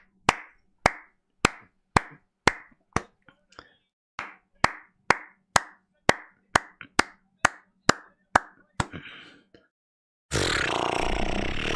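At a WWE NXT wrestling show, the crowd claps in a steady rhythm of sharp, evenly spaced claps for about ten seconds, then breaks into a sudden loud, dense wash of crowd noise.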